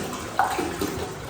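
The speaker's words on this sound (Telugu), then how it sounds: "నేను ఈ 2 kg రైస్కి దగ్గరగా ఒక 6 to 7 liters వాటర్ యాడ్ చేసుకుంటున్నాను" Water poured into a pot of about 2 kg of rice for homemade sago and rice vadiyalu, a brief splashing gush near and alone in a quiet kitchen.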